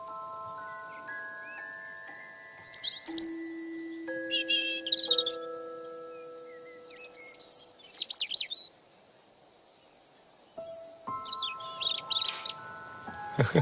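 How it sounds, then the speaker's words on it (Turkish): Game birds at a hunting ground outdoors chirp in scattered short bursts of high calls, with quiet gaps between them, over steady held tones. "Av kuşları var. Duymuyor musun?"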